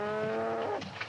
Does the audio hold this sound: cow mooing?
yes